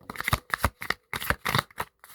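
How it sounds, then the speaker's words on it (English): Tarot cards being shuffled in several quick riffling bursts, crisp and close, with short pauses between each round and no talking. "Last shuffle."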